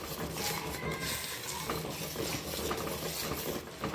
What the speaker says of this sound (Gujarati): થોડી હળદર અને મસાલો. અને કરી દઈશ મિક્સ.